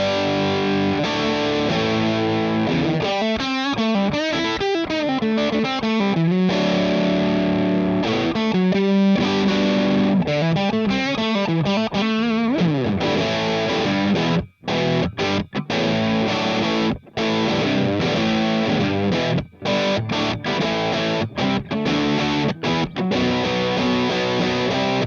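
Electric guitar on the bridge pickup through the overdrive channel of a Joyo Jackman amp, playing driven riffs and sustained chords for a long stretch with a few abrupt stops and restarts, loud and alone without talk.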